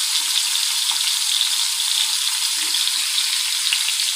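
Fish pieces frying in a hot pan greased with cooking oil, a steady, close, loud hiss and crackle of sizzling fat running unbroken throughout, with no voices.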